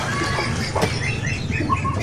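A pigeon flaps its wings in a short rustling burst, close and fairly loud, with faint chirps and other birds in the background.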